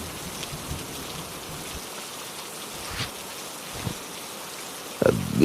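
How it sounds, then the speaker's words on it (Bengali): Steady light rain falling outdoors as a soft continuous patter, fairly faint, with a few brief louder knocks and a sharper thump near the end. "আকাশের অবস্থা ভালো নয়, মনে হচ্ছে আরো জোরে বৃষ্টি নামবে।"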